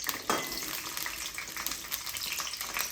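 Green chillies, garlic and ginger frying in oil in a pan for tomato chutney, a steady close sizzle and crackle running throughout with occasional stirring.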